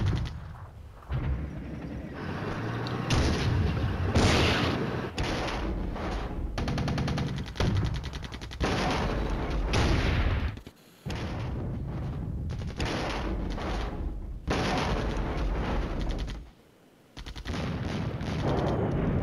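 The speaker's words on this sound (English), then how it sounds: "That's not smoke. That's artillery fire." Mortar artillery fire in a video game, a loud, dense barrage of booming blasts and rapid gunfire bursts running almost continuously, broken by brief quiet gaps.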